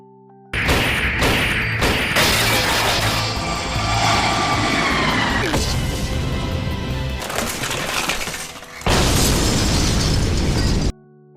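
Loud explosions and crashing bursts with debris and rumble, several heavy blasts separated by brief drops in sound.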